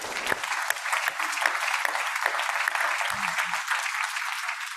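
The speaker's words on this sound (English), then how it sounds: "let's just give them a big round of applause." A large conference audience applauds at an opening session, a full and even wash of clapping that holds steady at moderate volume throughout, with a few low thumps partway through and no talking over it.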